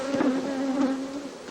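Honey bees buzz around an opened hive box during royal jelly production at a rural smallholding, a close, steady droning hum with individual bees briefly swelling louder as they pass near.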